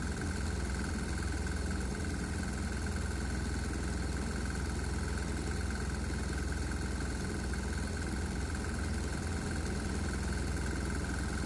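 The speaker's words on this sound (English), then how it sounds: "it also causes the engine to knock pretty loud" A diesel engine running on propane vapor runs steadily and loudly, with a constant low rumble and a harsh rattling knock throughout, no voices.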